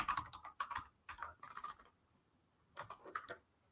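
Fingers tap a computer keyboard in quick bursts of clicks, a few keystrokes at a time separated by a short pause, quiet and close with no voices.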